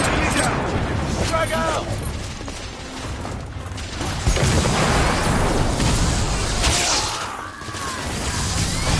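A heavy grenade explosion rumbles in The Order: 1886, a loud, sustained boom and crash under shouting voices and battle noise.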